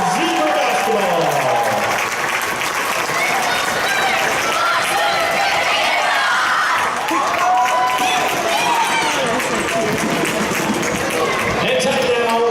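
A crowd at a Rochester boys high school basketball game against Wabash applauds a group of 3rd, 4th and 5th graders, loud sustained clapping and cheering in a gym, with a PA voice and crowd chatter mixed in.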